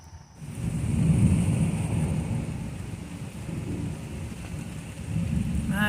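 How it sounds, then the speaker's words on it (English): A thunderstorm with a long low rumble of thunder rolling over steady heavy rain, heard outdoors on a gloomy morning and sustained throughout at moderate volume. "Lots of thunder going on."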